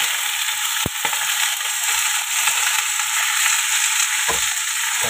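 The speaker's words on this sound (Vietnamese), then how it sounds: "Cái công đoạn mình xào cải chua để với tỏi cho nó thơm thôi" Pickled mustard greens stir-fried with garlic in a hot pan, a loud, steady sizzle close up, with a few sharp clicks of the utensil against the pan.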